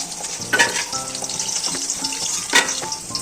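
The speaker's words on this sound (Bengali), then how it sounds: "বড়িটাকে ভেজে নিচ্ছি আগে" Homemade bori lentil dumplings fry in hot oil, a loud close sizzle with intermittent clinks and scrapes of a spatula stirring the pan, no talking.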